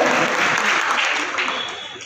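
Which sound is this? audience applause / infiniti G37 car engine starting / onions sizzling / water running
audience applause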